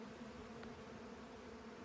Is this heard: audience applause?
no